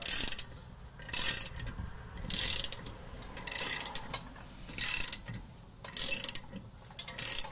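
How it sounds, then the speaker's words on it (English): On a 2007 Lexus RX350, a threaded bolt is driven in with a ratcheting tool to pull the brake rotor off the hub. Six short, crisp bursts of clicking repeat at a steady rhythm with quiet gaps between them. "you can drive this in and you can see the amount that it's pulling the rotor off of the hub"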